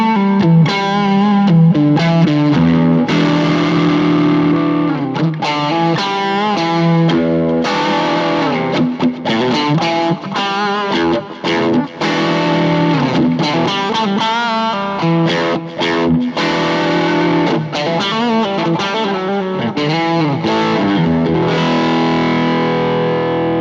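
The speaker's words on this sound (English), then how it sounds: "The clean channel on the blues driver sounds great with the delay as well." Electric guitar runs through a Boss Blues Driver on its clean channel with delay into a Boss IR-2 amp and cabinet simulator, playing steady chords and melodic runs with repeating echoes that trail off at the end; loud, continuous, no talking.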